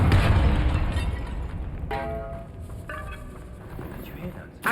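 A Confringo blasting-spell explosion in the video game Hogwarts Legacy: a loud burst opens the moment, then decays into rumbling debris with tonal game effects following.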